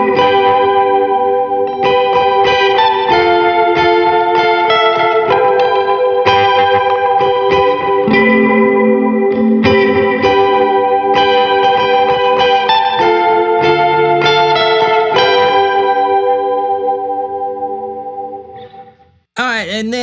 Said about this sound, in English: because I ran a dark chorus, I decided to go with a bright sounding reverb on there